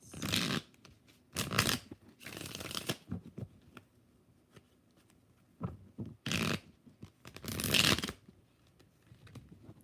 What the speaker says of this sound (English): I done shuffled these poor things to death